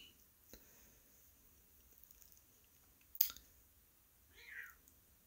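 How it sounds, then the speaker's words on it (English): A cat gives a single faint, brief meow near the end, after a sharp click. Quiet background hiss and a few small clicks surround it. "There's a cat."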